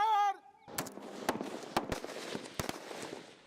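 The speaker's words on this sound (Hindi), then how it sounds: "Grouping fire." Rifles fire during a BSF grouping fire practice: a command is shouted, then a volley of sharp, loud cracks follows, irregularly spaced with a few near-simultaneous shots and echoing rumble between them.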